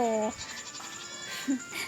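Goats bleat in the Township farming game, a short harmonic call opening the clip and a brief fainter cry near the end, over a soft steady game background.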